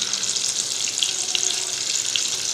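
Paneer pieces frying in a hot pan for paneer butter masala, giving a steady, loud, close hiss and crackle of oil that holds evenly throughout with no speech.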